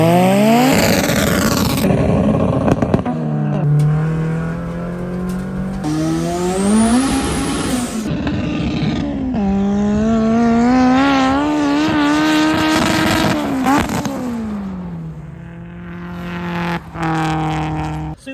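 A 1000 hp Ariel Atom and a drag car launch side by side in a drag race, engines screaming loudly as revs climb through repeated gear changes, with rising whines, brief tire squeal and a roaring pass that fades out toward the end.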